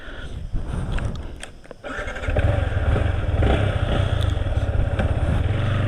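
A motorcycle engine runs close by with a steady low rumble that grows louder after about two seconds and holds at that level, on a ride set up for wheelie practice.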